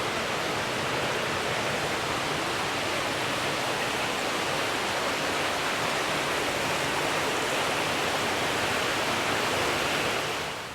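Water flowing through an indoor canal at Education City in Qatar makes a steady, loud, even rush that carries on unbroken without any voices.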